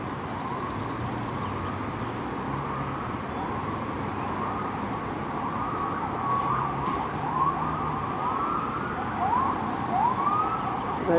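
Wailing police sirens rise and fall continuously over steady Budapest traffic noise, loud and fairly near, with more siren tones layering in toward the end.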